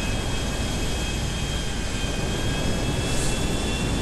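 A plane's engine drones steadily in GTA5 as the aircraft slows to land on top of a building, a continuous loud jet-like roar with a faint whine that holds throughout and has no voices over it.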